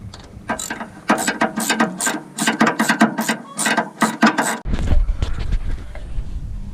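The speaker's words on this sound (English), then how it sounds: "But first, let's get these 2 bolts off." A ratchet wrench clicks in rapid bursts while loosening starter bolts on a 1999–2006 Chevy Silverado 1500 with the 4.8L V8. The close, loud clatter runs in short repeated strokes, then stops and gives way to a dull low rumble of handling.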